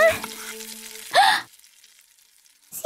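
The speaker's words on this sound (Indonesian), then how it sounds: "Terdengar suara seseorang sedang memasak." Someone frying food in a home kitchen, a brief sizzle burst with a short stir in the middle, heard close between a few faint tones and near-silence.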